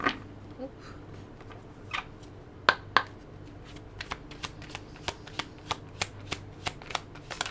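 Tarot cards being shuffled by hand, soft papery riffles early on giving way to a steady run of crisp, evenly spaced card flicks, close and quiet, with no talking.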